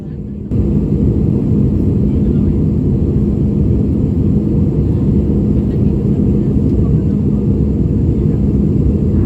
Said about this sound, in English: Around 30 minutes before we arrived, the plane started slowing down